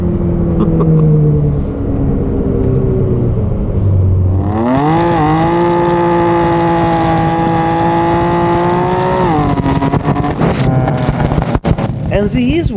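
A Ferrari engine idles low, then revs up sharply and holds a loud, rising, multi-toned drone as the car accelerates, with wind buffeting the microphone and a voice talking over it.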